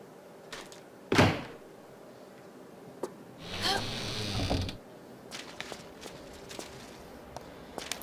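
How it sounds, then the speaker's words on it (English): A door at the top of some steps in the video game Jerusalem Project is pried open with a crowbar: a sharp clank, then a long creaking, scraping groan, followed by scattered soft footsteps and clicks. "open this door at the top of the steps with the crowbar."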